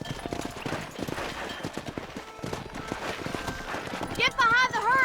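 Hooves pound in a quick galloping rhythm under ongoing talk in the video game Red Dead Redemption, with a whistling or whinny-like tone rising near the end.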